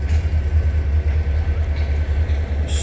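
A train leaving Bucharest Gara de Nord station rumbles steadily with a deep low-frequency drone, a continuous rolling roar without voices.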